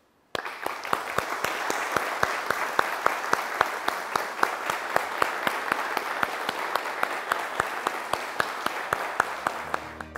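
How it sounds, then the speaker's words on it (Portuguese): A crowd applauds steadily, dense clapping filling the room for about ten seconds, close and sustained. "eu vou pedir um grande aplauso para quem trabalhou e para quem está trabalhando até hoje."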